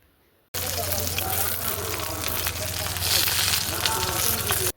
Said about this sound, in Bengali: একটু সময় নিয়ে আস্তে আস্তে ভাজবেন যাতে করে পাতাটা খুব সুন্দর ভাজা হয়